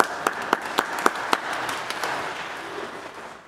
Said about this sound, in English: I want a round of applause